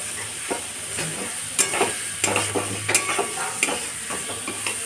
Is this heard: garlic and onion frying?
yes